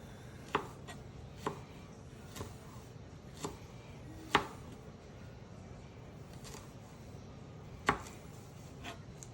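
Ginger being chopped with a knife on a cutting board for sesame chicken, a slow, irregular run of crisp, close thuds, some sharper than others, over faint room noise.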